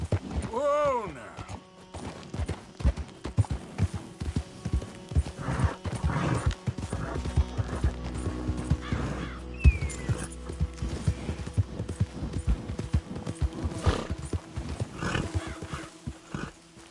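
A horse in the Red Dead Redemption 2 game gallops with rapid clip-clop hoofbeats and gives a whinny at the start, the hooves drumming on under a man's spoken urging.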